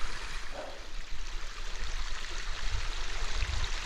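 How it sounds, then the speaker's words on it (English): A creek running beside an off-grid cabin in Vermont in snowy March, a soft continuous rushing and trickling of water, fairly quiet and steady with a few low thumps. "I don't know if you can hear the creek running, but oh, it sounds so nice"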